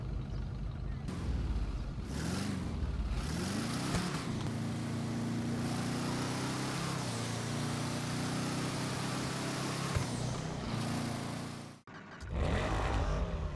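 A Declasse Hermes in GTA Online rumbles steadily with a deep, loud engine note that rises and falls as it revs, holding a sustained drone before cutting out briefly near the end.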